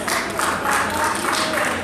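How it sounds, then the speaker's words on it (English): An audience at an Instagram marketing panel applauds the speakers with steady, dense clapping that holds evenly throughout, moderately loud with a faint murmur of voices. "Let's give a round of applause to our speakers"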